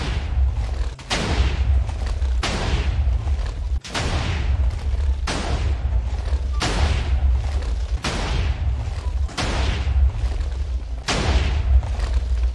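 Minecraft TNT cannon shots during a Factions vault raid, a steady run of loud booming blasts roughly every one to one and a half seconds, each with a deep thud and a crackling tail, continuing for the whole stretch with no talk.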